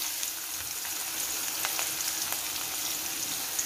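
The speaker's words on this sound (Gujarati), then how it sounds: "ને આ ડુંગળી આપણે શેકી લઈશું" Onion frying with asafoetida in a pan over a low gas flame, a dense, even hiss of sizzling oil with faint tiny crackles throughout, steady and close, no voices.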